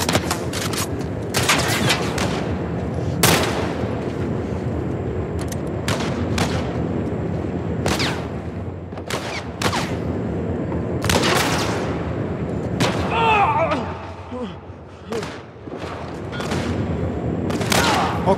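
Repeated gunfire in The Last of Us Part I on PS5: sharp shots crack out irregularly across the scene in bursts and single reports, some loud and close, others more distant, over a constant bed of game ambience.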